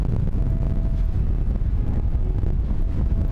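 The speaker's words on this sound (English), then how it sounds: "the wind is picking back up again" Wind blowing outdoors along the Carretera Austral in Patagonia, buffeting the microphone with a continuous low rumbling roar, loud and close, with no talk.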